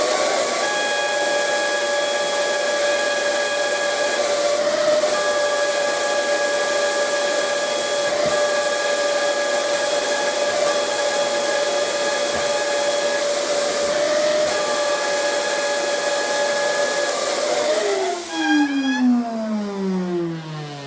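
A vacuum cleaner with its end nozzle opened runs over carpet, giving a loud steady whine with a strong tonal hum that drops in pitch as it winds down near the end.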